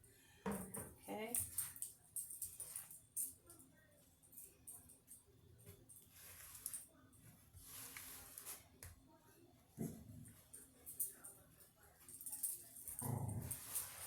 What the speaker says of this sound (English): My little camera hog dog comes out here snooping around in case I, spill anything good on the floor.